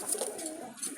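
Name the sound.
Jalali pigeons cooing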